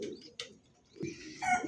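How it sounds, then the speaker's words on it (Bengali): A pair of natural-coloured domestic pigeons coos in short, low bursts close up, with a brief flutter and some brighter calls near the end. "দেখেন একদম ভাই ন্যাচারাল কবুতর, দেখছেন মাশাআল্লাহ দেখার মতো একটা জোড়া"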